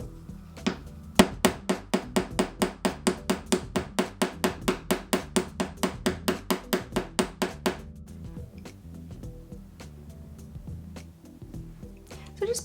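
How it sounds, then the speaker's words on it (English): Rapid, evenly spaced metallic taps of a hammer flattening artistic wire for a scarf pin, about two dozen close, crisp strikes in a steady run that then stops, with speech nearby. "Now I do want to hammer that just a little bit in the middle"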